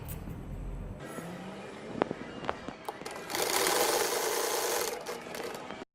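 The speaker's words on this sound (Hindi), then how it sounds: "3 इंच कंधों की सिलाई करनी है।" Shoulder seams of a baby boy's shirt run through a sewing machine in one steady, buzzing burst of stitching of about a second and a half, after scattered fabric handling and light knocks up close.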